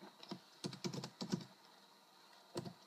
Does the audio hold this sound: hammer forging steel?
no